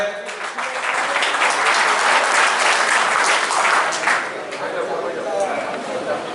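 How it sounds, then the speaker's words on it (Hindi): Loud, sustained applause from an audience welcoming guests at a district Congress party workers' gathering, a dense steady clatter of many hands filling the whole stretch and easing slightly toward the end. "जो हमारे अतिथि आए उनका जोरदार तालियों के साथ स्वागत करें"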